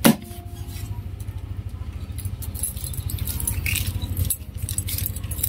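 Keys jangle and rattle at the ignition of a Yamaha Sniper 150 motorcycle, a light metallic clinking that runs steadily through the clip over a low, pulsing hum, close and fairly clear.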